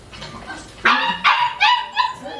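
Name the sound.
dog barking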